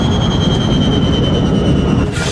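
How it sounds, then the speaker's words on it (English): Airliner jet engines flaming out and winding down one after another during an emergency over New York, a loud steady roar with a sustained high whine that drops off near the end. "The passengers can hear the sound of the engines beginning to shut down."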